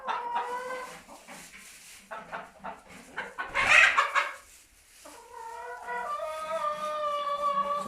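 Hens cluck and squawk inside a chicken coop, a mix of short clucks and longer drawn-out calls, with a loud burst midway and a sustained call near the end, fairly close.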